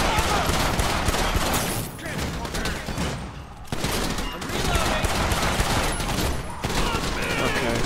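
Dense automatic gunfire in an LSPDFR police mod game, with rounds pumped into a bus in long rapid bursts and brief pauses, loud and close, while voices talk over it.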